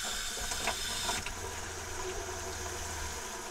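Water runs steadily from an RV faucet in an R-Pod trailer just after dewinterizing, a constant hiss with a faint low hum underneath, no voices.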